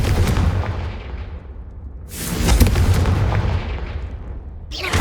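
The Confringo spell is cast in Hogwarts Legacy, letting out heavy, booming blasts that rumble and fade, then a fresh burst strikes again, loud and close with no talking.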